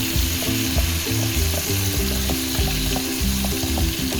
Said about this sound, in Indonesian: Oke, dipanaskan, ditumis, masukkan daun jeruk, daun salam, lengkuas ya.